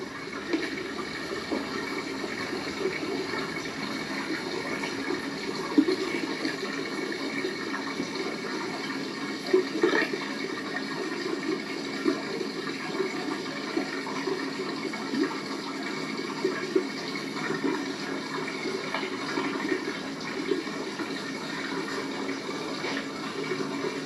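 Adirondack stream water flows steadily around a boulder placed in the current, a continuous close rushing and gurgling that holds at an even level throughout.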